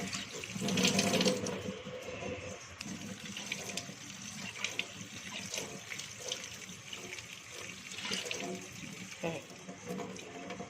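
Cold tap water runs and splashes as homemade pasta is rinsed in a colander, with clinks and shuffling as it is shaken under the stream.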